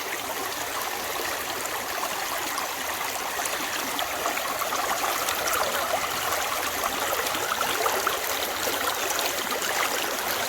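A creek flows steadily, with continuous broadband rushing and trickling water, close and even in level throughout, with no voices.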